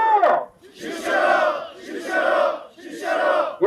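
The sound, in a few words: protesting farmers shouting slogans in unison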